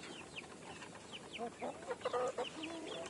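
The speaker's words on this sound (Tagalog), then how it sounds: "mag-update lang tayo sa ating mga alagang manok." Free-range chickens, young birds a few months old recently let out of confinement, cluck and call in short bursts at moderate distance, with a busier cluster of clucks toward the middle over steady outdoor background noise.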